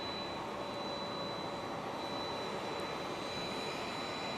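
An aircraft roars far off at Fukuoka International Airport as a steady, broad, even rumble and whoosh of jet noise that holds constant throughout, with no voices.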